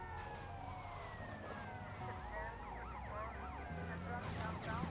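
A wailing police siren in Grand Theft Auto: Vice City – The Definitive Edition rises and falls over rumbling engine noise and a busy mix of game sounds.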